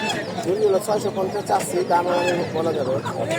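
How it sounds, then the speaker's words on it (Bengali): Domestic chickens and roosters at a village poultry market in Hasnabad cluck and call nearby, mixed with a crowd of voices talking over them throughout. "দেখতেই পাচ্ছেন খুব সুন্দর সুন্দর কিছু মোরগ মুরগির কালেকশন"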